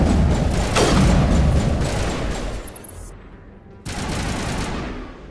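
Sustained video game gunfire from computer-controlled enemies, a dense rapid barrage of shots and booms that holds loud for several seconds, briefly cuts out, then resumes.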